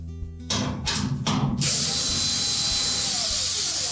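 A power driver backs out the quarter-inch hex head machine screws at the top of a Whirlpool washer's hinge: a few short bursts, then a sustained close, whining drill run.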